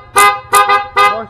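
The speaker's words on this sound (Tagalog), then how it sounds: "ang lakas ng busina niya" Three loud, blaring motorcycle horn honks, each short and harmonic, with brief gaps between them and no talking.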